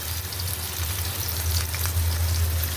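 Onion and garlic paste frying in hot oil in a wok gives a loud, steady, close sizzle and crackle, continuous and alone with no voices.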